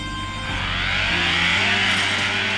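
Car engine in the drift racing game FR Legends, a steady loud droning hum with stacked tones that step up in pitch as it revs, running continuously with no talk.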